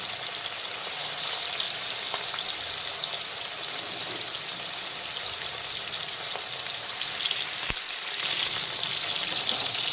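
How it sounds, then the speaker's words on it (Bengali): Chicken pieces for Kashmiri-style rogan josh sizzle in a pan, a steady bright crackle of frying that runs throughout, with a single sharp tap partway through and no talking. "এখন মাংসের উল্টো দিকটাকেও একইভাবে ভালো করে মিডিয়াম ফ্রাই করে নেব"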